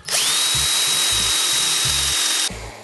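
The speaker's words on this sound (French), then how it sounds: "Je vais juste faire un trou à la visseuse pour faire un rond." Cordless drill-driver boring an entrance hole in wood for a Kenyan top-bar beehive: a loud, steady high whine held for over two seconds before cutting off, leaving a softer tail.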